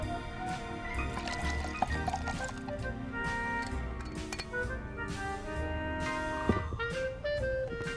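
Ciroc vodka poured for a Diddy cocktail at a home bar, soft liquid splashing and trickling set against background music with a couple of small clinks, faint and close.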